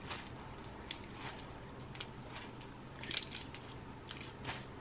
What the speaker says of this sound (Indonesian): Gue kupas dulu telurnya.